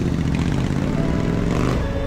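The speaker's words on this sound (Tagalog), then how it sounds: "gamit namin yung aming mga scrambler na motor at mapapasabak tayo ulit ng off-roading" Scrambler motorcycles ride off-road on bumpy dirt tracks, their engines droning and rumbling steadily and close by for a couple of seconds, with slight clatter over rough ground.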